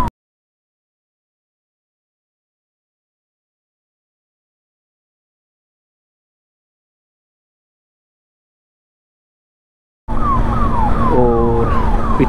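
Near silence for most of the clip, then a wailing ambulance siren suddenly rises over loud road and engine noise near the end, on a national highway in India.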